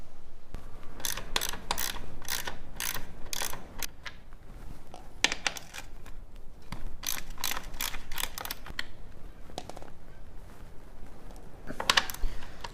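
A ratchet cranks out the bolts of the skid plate on a Triumph Tiger motorcycle, in repeated bursts of fast, close clicking separated by short pauses, with no talking.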